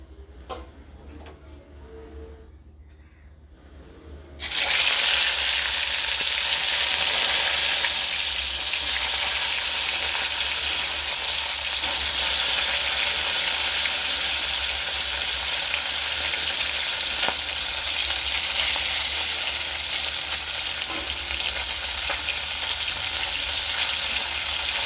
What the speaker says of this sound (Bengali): তেল গরম হয়ে এসছে, এবার একে একে মাছগুলোকে ভেজে নেব